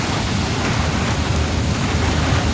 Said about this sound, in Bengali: খুব জোরে বৃষ্টি নেমে গেল।